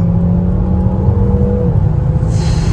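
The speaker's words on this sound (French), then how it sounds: "on profite de la pleine puissance du véhicule, donc le moteur thermique qui fait 200 chevaux et les deux moteurs électriques" A Peugeot 3008 Hybrid4, with a 200-horsepower petrol engine and two electric motors, accelerates at full power. Its loud engine drone and whir climb steadily in pitch from inside the cabin, and there is no talking.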